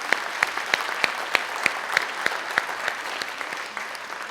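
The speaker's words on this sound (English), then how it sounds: "let's give everybody a round of applause for making Glendale graffiti free" A small audience at a neighborhood poster contest awards ceremony in Glendale claps in a sparse, steady rhythm of distinct separate claps, with no talking over it.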